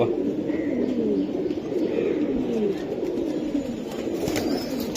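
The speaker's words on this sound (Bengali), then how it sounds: "এগুলো অ্যাস্ট্রোকের পাখি কবুতরের বাচ্চা ভাই" Young pigeon chicks coo repeatedly at close range in soft, wavering calls that run nearly without a break, with a faint chirp now and then.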